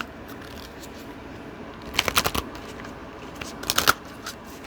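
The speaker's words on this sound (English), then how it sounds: "I do want to pull one of these rose cards here from this deck" Cards are pulled from a rose card deck, producing two short clusters of soft, close flicking and snapping card sounds over a quiet room hiss.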